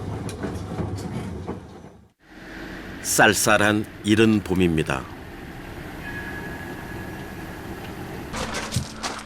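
Riding a rural train in Japan, a steady rumbling cabin drone with rail noise, briefly cut partway through, while a voice talks over it.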